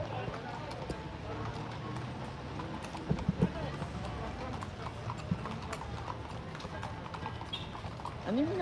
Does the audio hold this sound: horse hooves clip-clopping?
yes